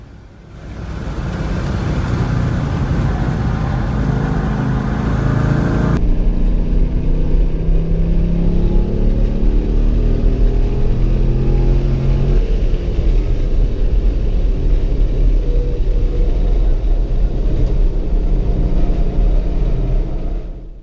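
A Corvette C5 and a turbocharged BMW E36 M3 race around a track, engines droning loudly and continuously as they rev hard through the laps, with a sharp shift in tone partway through.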